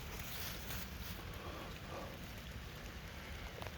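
Rain falling outdoors near a garden with corn and squash, a soft, faint, continuous hiss of drops, no talk.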